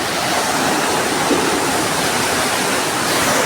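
Canal water gushes into a farm well as a loud, steady, close rush with no pauses and no voices.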